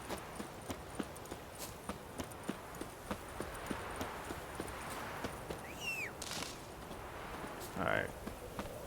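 Horse hooves clip-clop at a steady walking rhythm in The Witcher 3, evenly spaced close thuds that continue throughout, with a few brief synthetic chirps and whooshes from the game near the end.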